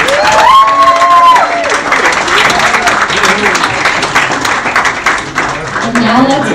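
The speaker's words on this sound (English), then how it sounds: "let's give them a huge round of applause" Loud applause from a crowd at a wedding reception, dense clapping that fills the room for several seconds, with cheers and whoops over it.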